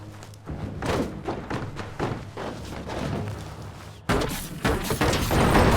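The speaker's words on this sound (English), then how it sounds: "Shoot it and watch it blow." Explosion of a shot object in the game Biomutant, a series of dull thuds and booms with a loud burst near the end under game music.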